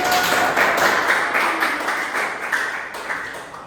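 A classroom group claps after a presentation, a brief light patter of hands heard somewhat far off over room noise.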